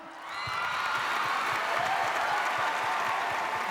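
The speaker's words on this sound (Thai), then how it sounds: "ขอเสียงปรบมือให้กับโค้ชตามโค้ชชอีบอยและศิลปินรับเชิญของเรานะครับ" Studio audience applauding the coach and guest artist on The Voice Thailand, a steady dense wash of clapping that swells in and holds, with faint cheering mixed in.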